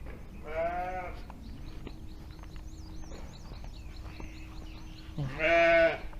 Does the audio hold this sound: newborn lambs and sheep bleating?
yes